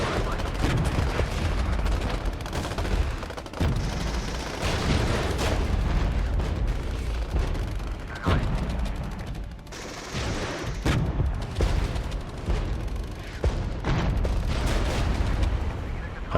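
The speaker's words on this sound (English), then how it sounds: "We'll drop down some artillery in between." Artillery barrage in the Regiments war strategy game, a sustained rumble of repeated booms and blasts packed tightly together, loud and continuous across the whole stretch with several sharper impacts standing out.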